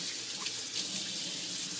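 Water running steadily into a bathroom sink in the video game I Am Bread, a constant close rushing and splashing stream with no talk.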